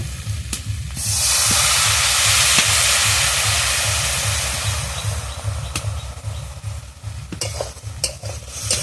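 Water poured into a hot pan of pumpkin greens curry with jackfruit seeds, papaya and prawns bursts into a loud sustained hiss, then fades into sizzling as a spoon scrapes and stirs.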